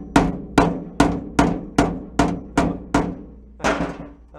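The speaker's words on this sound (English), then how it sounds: "Don't be afraid to use this part of the hammer" Hammer striking sheet metal during beginner metal fabrication: eight sharp ringing blows in an even rhythm, close and loud, followed by a slightly softer, smeared strike at the end, with no talking.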